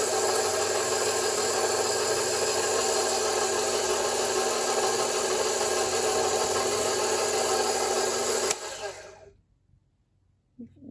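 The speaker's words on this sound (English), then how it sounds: "So here I am starting KitchenAid and stir." KitchenAid stand mixer kneading pav bread dough runs loud and close with a steady grinding, rubbing whir, then abruptly cuts off, leaving near silence.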